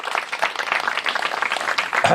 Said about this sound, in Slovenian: aplavz za njega